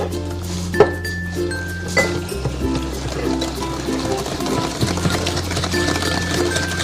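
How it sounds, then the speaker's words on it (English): A whisk stirs granulated and brown sugar together in a bowl by hand, giving soft, irregular scraping and light clinks close by over a quiet kitchen hum. "We're gonna whisk this together."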